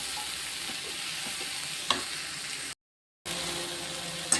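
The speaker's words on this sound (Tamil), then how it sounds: "இது எல்லாத்தையும் மொத்தமாக நல்லா வேகிற அளவுக்கு தக்காளிலாம் குழஞ்சி வர்ற அளவுக்கு நம்ம நல்லா வதக்கி எடுக்கணும்" Tomatoes and onions sauté in a pan for a turkey berry (sundaikai) chutney, giving a steady close sizzle with occasional stirring clinks and a brief dropout of sound.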